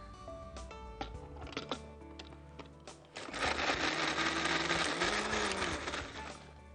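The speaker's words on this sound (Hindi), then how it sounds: "और अब इसे हमने पीसना है।" After a few light clicks and taps, a kitchen grinder whirs loudly and steadily for several seconds, blending salsa ingredients such as salt and lemon juice.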